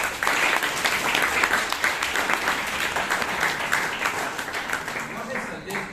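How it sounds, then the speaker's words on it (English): Audience applause at a Toastmasters meeting in Bangalore, a dense, steady wash of clapping from a room of people that holds for several seconds with some talk mixed in underneath. "so please give him a big round of applause"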